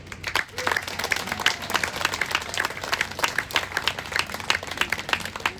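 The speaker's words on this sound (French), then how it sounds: "on va d'abord applaudir le pan et sa pause" Spectators at a theatre performance of a Latin comedy applaud the actors, with distinct individual claps standing out in an uneven, moderately loud patter from a small audience.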